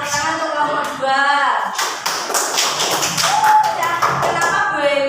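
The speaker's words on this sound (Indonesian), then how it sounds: "Tepuk tangan untuk kelompok 2." A class applauds a student group after its presentation, with dense, steady clapping filling the room and voices and chatter mixed in underneath.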